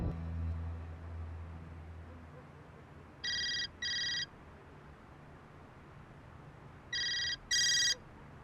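A telephone rings in two bursts, each made of a pair of short electronic trills. The rings are clear and moderately close over a quiet room hum, with a long pause between the bursts.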